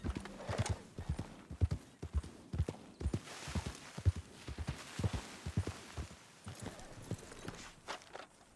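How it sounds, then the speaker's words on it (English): Horse hooves clip-clop in a steady walking rhythm in the video game Red Dead Online. The hoofbeats sound close and distinct over a faint ambient background. "Oh, I guess that horse has no owner now."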